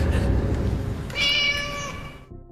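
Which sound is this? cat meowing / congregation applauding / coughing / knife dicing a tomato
cat meowing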